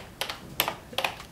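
Clacky keystrokes on a colored, typewriter-style computer keyboard arrive in three quick close-up clusters of two or three taps each, crisp and moderately quiet over a faint background.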